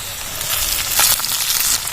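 Potatoes, already half-fried, sizzle in hot oil with slit green chillies added, a steady close crackling hiss with brief louder bursts as the pan is stirred.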